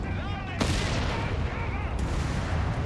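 Automatic gunfire in Company of Heroes 3, sharp rattling bursts with a couple of heavy cracks, under a game announcer's running commentary.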